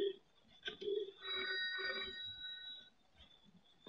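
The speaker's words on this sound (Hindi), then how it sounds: "चलो भाई, पायल को फोन कर ही लेता हूं" A telephone rings in a Bollywood film scene, a faint, brief electronic ring lasting about two seconds against a quiet room background.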